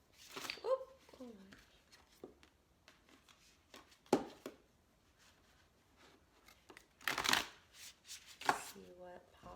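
A deck of tarot-style cards is shuffled in a few quick riffling bursts separated by pauses, close and crisp, with soft handling noises and a voice talking in between.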